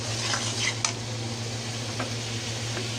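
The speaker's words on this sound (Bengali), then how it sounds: "এখন আমি এই যে ঝোল দিয়ে দিলাম, একটু ঝোল বেশি দিলাম" A pan of tilapia fish curry with tomato simmers under a steady hiss after broth is poured in, while a utensil stirs and clinks against the pan a few times. No one speaks.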